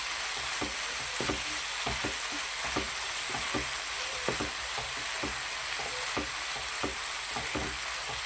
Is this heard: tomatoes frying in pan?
yes